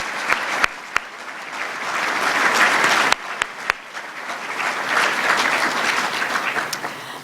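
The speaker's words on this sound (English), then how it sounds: "Let's share a round of applause for this outstanding alum of Montana State." Audience applause at a Montana State University high-tech jobs summit honoring an alum, a steady wash of clapping with a few sharp louder claps standing out, sustained for several seconds without talk.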